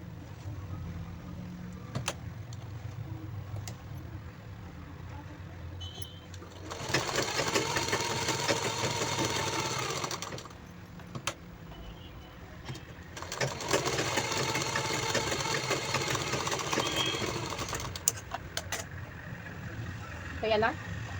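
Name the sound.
sewing machine stitching fabric seam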